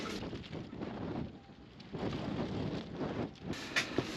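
Cold wind blows across a boat in winter, a rough, gusty rush buffeting close to the microphone, surging and easing with a few sharp knocks near the end.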